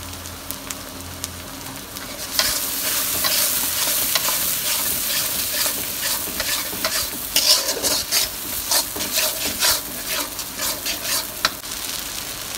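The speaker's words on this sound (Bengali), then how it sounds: "ধনের গুঁড়ো, দিয়ে এখন নেড়ে নেবে।" Coriander powder and ginger paste stirred in a hot frying pan, a steady oily sizzle with repeated scraping strokes of a spoon, close and continuous, growing busier after the first couple of seconds.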